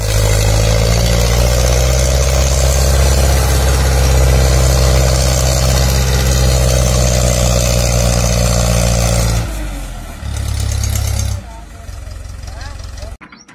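A Farmtrac 6055 center-gear tractor engine runs at a steady, loud, low idle for about nine seconds, then drops in level, briefly rises again and cuts off.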